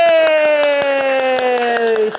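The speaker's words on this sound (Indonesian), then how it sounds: "tepuk tangan buat kelas 5C" A primary school class, grade 5C, claps quickly in the classroom while a sustained, slowly falling voice-like tone rings loudly over the claps.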